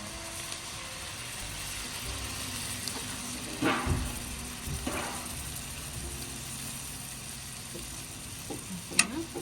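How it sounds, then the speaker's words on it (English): Cooking cream poured into a hot pot for a Christmas dinner gives a steady soft sizzle, with a few scraping stirs and light clinks of a utensil against the pot, close and unaccompanied by speech. "so now we're going to add the cooking cream"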